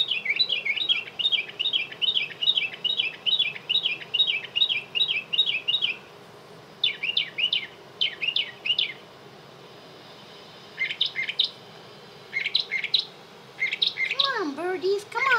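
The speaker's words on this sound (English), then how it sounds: "Birdies, come on, sing!" Birds chirping and singing nearby, a fast run of repeated high tweets followed by scattered short bursts of song with brief pauses between phrases.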